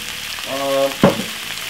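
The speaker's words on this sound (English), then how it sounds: "As you can see, 5 minutes stir fried veg, done and dusted." Vegetables stir-fried in a hot pan, a steady frying hiss with a brief tonal squeal and one sharp utensil knock partway through.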